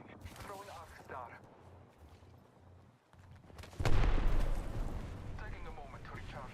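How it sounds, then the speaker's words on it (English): Video game gunfire during a squad firefight: a few soft shots under a player's talk early on, then a loud burst of heavy shooting and explosions that rumbles and slowly fades. "Shots fired at me"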